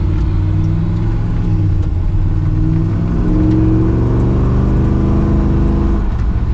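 A rough old Kaiser Jeep M715 military truck engine rumbles and revs up close, its low growl rising and falling steadily for several seconds with no talking.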